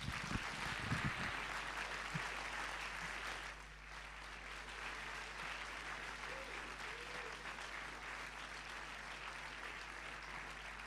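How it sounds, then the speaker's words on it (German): Dense, sustained clapping from a live audience at an Advent concert fills the space for the whole stretch, easing slightly partway through but staying steady and broad. "Deswegen mit einem großen Applaus"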